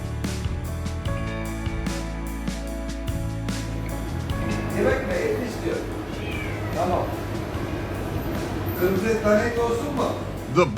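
A cat at a butcher shop meows several times in rising, drawn-out calls over steady background music, with a voice talking alongside.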